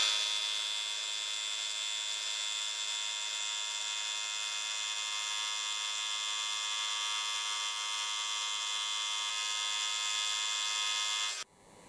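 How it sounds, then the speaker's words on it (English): A tungsten carbide fly cutter thread-mills high tensile steel with a steady, high tonal whine and hum that holds constant for several seconds, then cuts off abruptly at the end. "Thread milling with a tungsten carbide fly cutter can easily handle high tensile steel."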